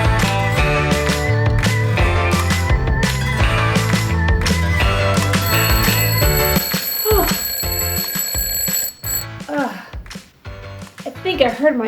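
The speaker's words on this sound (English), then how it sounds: "I think I heard my alarm." An electronic alarm beeps with high, steady repeating tones over background music, then the music thins out into scattered sounds.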